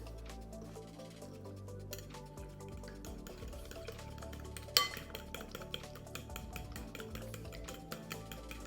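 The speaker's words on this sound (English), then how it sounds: "Give that a stir." Canola oil stirred into banana bread batter in a bowl makes soft, steady wet scraping with light clinks of utensil on the bowl and one sharper knock midway, all quiet and close.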